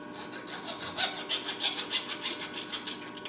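A file rasps back and forth over drilled metal, removing drill burrs in quick, even strokes, about a dozen close scraping passes with no talking.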